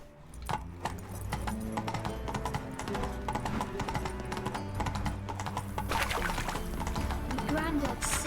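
Horse hooves galloping in The Witcher 3, a fast steady clip-clop rhythm running throughout under game music, with voices talking over it.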